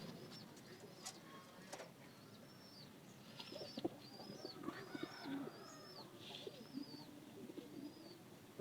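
Wild pigeons in a loft coo quietly, with scattered chirps and light rustling of birds moving, all fairly faint and with no voices.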